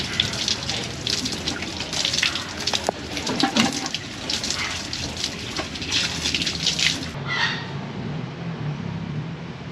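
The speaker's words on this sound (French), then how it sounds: "Je prends mon petit tuyau d'eau" Water runs steadily from a small garden hose in a strong, continuous gushing rush. Around the seventh second it shifts to a softer, duller flow, and no one speaks.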